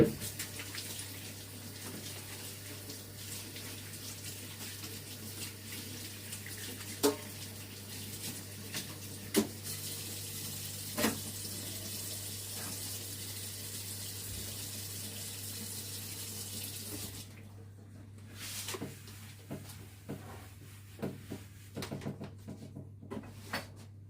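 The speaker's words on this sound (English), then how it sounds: "I'm going to wash my hands, bring the cake forward, and then we'll get to work." Water from a kitchen tap runs steadily into a sink during hand washing before baking vegan cupcakes, a continuous hiss under a low hum, broken near the end by a few small knocks and clatters.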